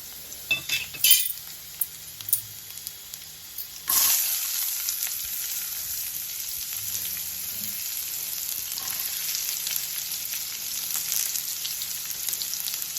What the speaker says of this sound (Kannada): ಈಗ ಬೀಜ ಫ್ರೈ ಆಗ್ತಾಯಿದೆ ಸೊ ಫ್ರೆಂಡ್ಸ್ ಈಗ ಈರುಳ್ಳಿ ಹಾಕೋತೀನಿ